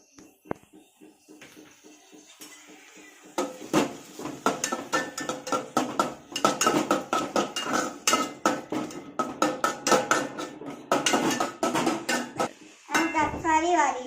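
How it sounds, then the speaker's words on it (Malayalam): A utensil stirs tomatoes into sautéed onions in a pan, a fast run of close, loud scraping and clinking strokes after a few sparse knocks, with a voice speaking briefly near the end. "ഇനി നമുക്ക് തക്കാളി ഇട്ട് കൊടുക്കാം."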